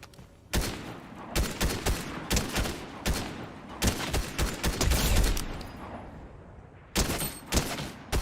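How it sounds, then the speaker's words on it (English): Gunfire in Fortnite Chapter 3 Season 4: loud bursts of shots crack out in quick clusters across several seconds, some heavy and close, with short pauses between volleys and no talking. "Who's shooting already?"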